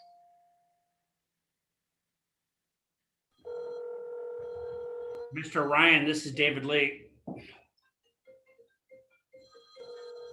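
A telephone rings during a public hearing conference call, a sustained electronic ring tone heard faintly over the line, followed by someone speaking and then a few softer tones returning.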